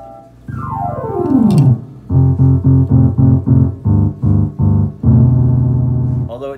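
A piano preset on a 1984 Kimball Challenger analog keyboard plays loud and alone, starting with a quick descending glissando, then a run of evenly spaced repeated chords and a final sustained chord.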